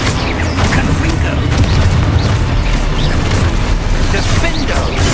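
A Confringo fire spell from Hogwarts Legacy bursts in a dense, booming explosion with crackling debris, filling the whole stretch at steady loudness with battle noise and voices behind it.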